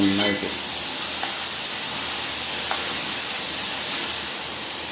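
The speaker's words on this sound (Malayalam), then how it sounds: "ഇളക്കി നമുക്ക് യോജിപ്പിക്കാം." Leftover cooked rice being turned into upma is stirred in a hot frying pan, giving a steady, even sizzle and hiss with a faint scrape or two, close by and without talk.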